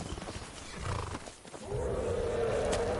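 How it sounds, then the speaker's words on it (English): A dragon roars in the Skyrim video game, a rough drawn-out growl rising out of ambient game noise partway through and holding steady to the end. "Okay, that was a dragon."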